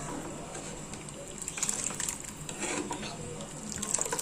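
Sankara fish being washed under a running tap at a sink, a continuous faint gush and splash of water with small surges as the fish is handled.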